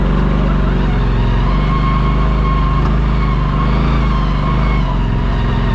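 Steady, loud engine drone from a 2025 Polaris RZR Pro S side-by-side driving off-road in two-wheel drive, holding an even rumbling note throughout.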